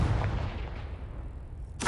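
Confringo blasting spell in the video game Hogwarts Legacy, a loud booming explosion that rumbles and fades over under two seconds, followed by a sharp burst at the end.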